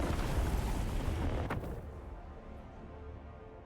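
Skaven mortar fire in Total War: Warhammer 3 during a siege, a loud rumbling barrage with one sharp crack midway, then fading into a lower distant roar, with no talk.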